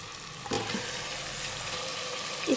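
Washed chicken goes into garlic-ginger paste frying in a pot for aloo chicken curry. A soft, steady sizzle plays with a light clatter as the pieces drop in, and no one talks.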